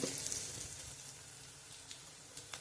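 Chopped tomatoes sizzle in a pan with ginger and garlic for a green moong usal, a steady soft frying hiss with a slightly louder burst at the start and a few faint pops near the end.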